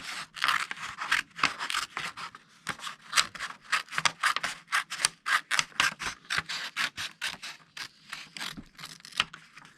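Scissors snip repeatedly through paper gingerbread-person craft pieces, a rapid run of crisp, close cuts with brief pauses, no talking.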